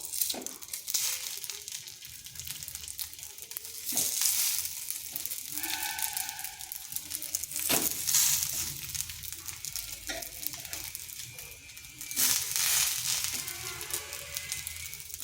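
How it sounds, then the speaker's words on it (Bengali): A semolina snack, seasoned with chili powder and cumin, fries over low heat in a pan. The steady sizzle rises into several louder crackling bursts as the pieces are moved and turned, close up and with no talking. "এইভাবে হালকা আঁচে দুই পাশটা হালকা করে ভেজে নেব"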